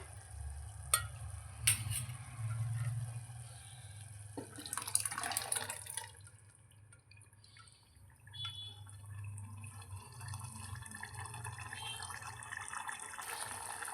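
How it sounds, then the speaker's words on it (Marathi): Water from a pressure cooker is poured and stirred into a pot of sambar with dal and soft vegetables, with sloshing, drips and faint sizzling over a low steady rumble, a few sharp clinks early on. "ह्याच्यामध्ये पाणी ॲड करणार आहे मी त्या कुकरमधून"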